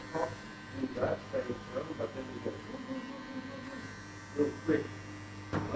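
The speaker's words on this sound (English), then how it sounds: "I'll now shave everything using your clipper, everything below the guideline." An electric hair clipper cutting below the guideline on a mid skin fade, a steady buzz with a low mains-like hum, close to the microphone, while a voice speaks over it in short bursts.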